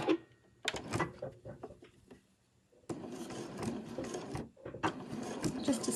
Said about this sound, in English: So just as we did before, we're going to sew from the wrong side.